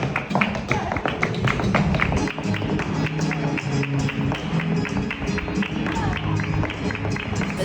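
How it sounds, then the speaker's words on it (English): Free flamenco concert in Plaza de España, Seville, with rhythmic tapping heels and clapping under a steady crowd murmur, heard from a moderate distance outdoors. "just in there is a free flamenco concert"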